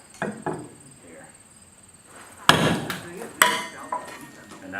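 Steel slate punch knocking nail holes through a roofing slate at a slate roofing training demonstration, a few sharp, close taps separated by pauses, with someone talking between them.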